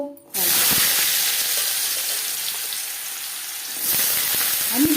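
Diced okra and potatoes hit four or five spoonfuls of hot refined oil with an abrupt, loud sizzle that settles into a steady close hiss, swelling again near the end.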